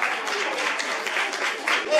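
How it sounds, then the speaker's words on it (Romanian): A crowd applauds at a children's Christmas party with Santa, a dense, continuous patter of clapping mixed with voices talking and calling out. "Aplauze pentru mama lui Agnes."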